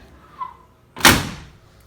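A freshly adjusted door swings shut with a single solid slam, preceded by a faint squeak, the thud ringing briefly before fading.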